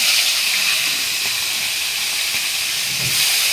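Magur catfish pieces hit hot oil in a kadai for a spicy fish curry, setting off a loud, steady sizzling hiss that fills the whole moment without letting up.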